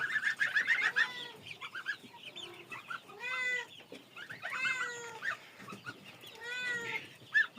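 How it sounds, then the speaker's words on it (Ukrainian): Young chickens clucking and squawking in bursts, close by, with short pauses between calls and no talking. "з ними тут пару курей сидить"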